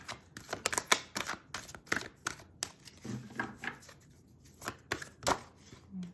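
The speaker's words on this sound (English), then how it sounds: "Let me shuffle a little bit more." Heavy cardboard tarot cards are shuffled in a series of sharp, irregular riffling snaps and flutters, close and fairly loud, with brief quiet gaps between bursts.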